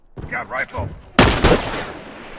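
Rifle gunfire in The Last of Us Remastered crashes in as a loud, sharp burst of shots after a brief voice, then trails off into a decaying rumble.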